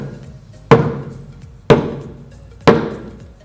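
Hand drum struck near the edge for its highest tone: three crisp, evenly spaced slaps about one second apart, close and fairly loud, each with a short ringing decay.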